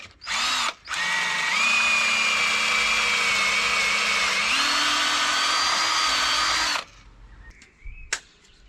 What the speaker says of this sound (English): it drills your holes on an angle